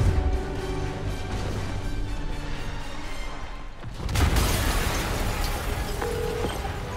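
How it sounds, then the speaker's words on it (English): A loud explosion bursts out during a boss fight in the PC version of Marvel's Spider-Man, where the video game's background music gives way to a heavy, broadband blast that rumbles on for several seconds. "an explosion just..."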